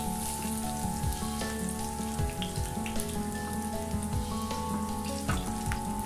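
Mustard seeds, shallots and green chillies fry in hot oil, giving a faint crackling patter like light rain, with a steady hum beneath and occasional small pops, fairly quiet and close.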